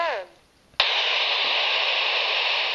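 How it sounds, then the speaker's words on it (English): Handheld radio with squelch switched off: a brief voice trails off, near-silence follows, then a sudden loud burst of steady broadband white-noise static fills the rest, constant and unbroken. "when the squelch is turned off, the radio will play whatever it's hearing, even if it's just white noise"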